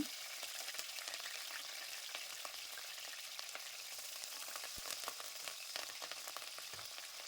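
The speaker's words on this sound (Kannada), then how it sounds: "ಬೆಳ್ಳುಳ್ಳಿ ಸ್ವಲ್ಪ ಫ್ರೈ ಮಾಡ್ಕೊಳ್ಳೋಣ." Crushed garlic and curry leaves frying in oil in a pan, a soft, steady crackle with scattered tiny pops, faint and continuous throughout.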